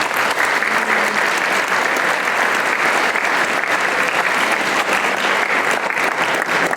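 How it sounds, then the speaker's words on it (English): A dense, loud round of applause from the audience at a high school band's Sousa-style pops concert, continuous and even for several seconds with no pauses or voices on top. "Would you please give them a big thank you round of applause?"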